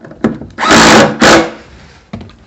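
Backpack blower repair on a Stihl BR350: two loud bursts of a power tool tighten the coil, with a few sharp thunks of handling in between and after, close and alone.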